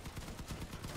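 A vehicle-mounted machine gun in the game Crossout fires a rapid burst of rattling shots, even and continuous across one second, quiet and with no talk.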